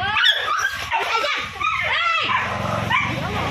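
A dog whimpers and gives short yips, close by, with people talking over it throughout.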